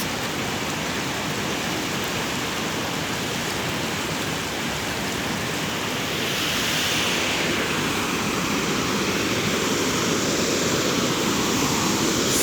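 Steady, loud rushing water fills the scene without pause, a dense continuous roar of a stream flowing under a bridge, close at hand.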